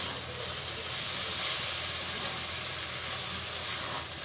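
Kachki fish sizzles in a pan with tomato, coriander leaves and mustard oil, with potato, aubergine and pointed gourd, a close, steady hiss that holds at an even level with no talk.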